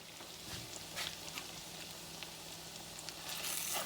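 Tuna patties fry in butter and oil with a faint, steady sizzle dotted with small crackles and pops, and no talking.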